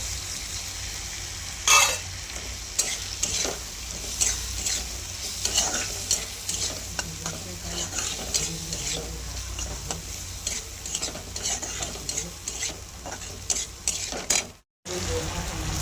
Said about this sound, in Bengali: পেঁয়াজটা ভাজা ভাজা হয়ে গেছে, এবার আমি এর ভিতরে দিয়ে দেবো পরিমাণ মতন আদা রসুন বাটা, আর দিয়ে দেবো টমেটো কুচি